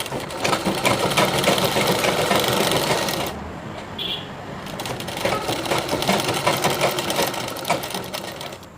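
A sewing machine runs in fast continuous stitching bursts while sewing a chudidhar collar neck along canvas, pausing briefly midway before resuming loudly.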